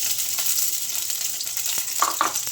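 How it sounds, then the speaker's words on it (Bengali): Sliced onion hitting hot oil for a thin dal sets off a continuous bright sizzle with a few soft stirring sounds near the end. "তেল গরম হয়ে গেছে, এর মধ্যে দিয়ে দেব পেঁয়াজ।"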